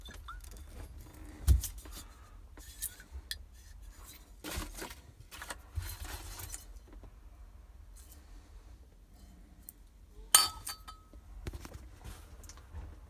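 A glass vodka bottle found inside a Volkswagen parked for 30 years clinks and knocks a few times as it is handled: sharp, isolated taps separated by quiet stretches, with no talking.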